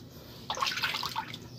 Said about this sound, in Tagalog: Pinasok na naman po ng high tide ang aming bahay.